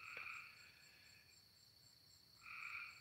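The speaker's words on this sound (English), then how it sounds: "Now the frogs are starting to croak again." Frogs croak in bursts, a loud chorus at the start fading to a quieter stretch, then surging again near the end, with a steady insect trill throughout.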